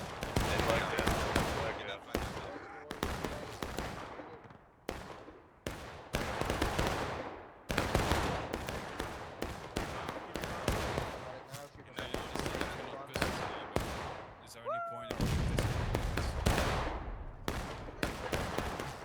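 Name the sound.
musket cover fire in the video game War of Rights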